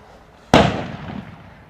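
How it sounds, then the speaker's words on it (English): A single loud handgun shot cracks nearby at a practical shooting practice session, a sharp report followed by a ringing decay over a low background hum. "How to listen to really loud gunshots in the background."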